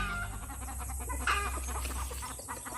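Chickens cluck softly and intermittently over a steady background hum, no talking.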